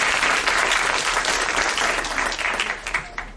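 Audience gives a loud round of clapping at a stage event, dense and steady at first, then thinning and tapering off toward the end.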